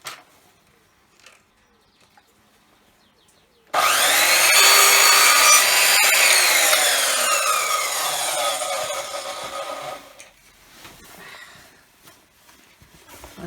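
Hand sawing through a piece of material during a motorhome water-system leak repair: steady back-and-forth strokes, loud and close, running for about six seconds before fading, with quiet handling noises before and after.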